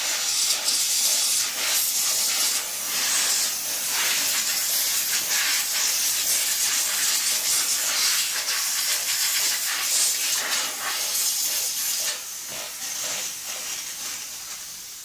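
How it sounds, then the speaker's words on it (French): Loud continuous steam hissing from a steam cleaner used on disassembled Krups coffee maker parts, a dense close spray that varies slightly in intensity and runs without pause. "on va nettoyer ça avec de la vapeur"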